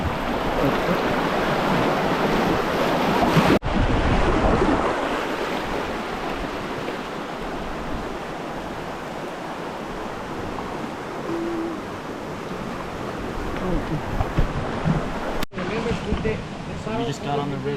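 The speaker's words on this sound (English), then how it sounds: "We just got on the river, went down a couple of rapids." Rushing river water and rapids roar steadily around tubers floating a river near La Leona waterfall, loud and continuous with wind buffeting the microphone throughout.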